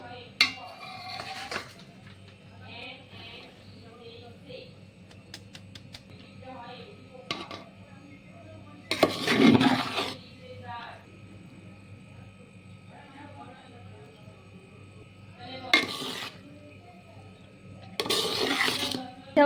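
Fried rice is mixed with beans, capsicum and carrot in a pot, with scattered metallic scrapes and clatters from a spoon against the pot between stretches of speech.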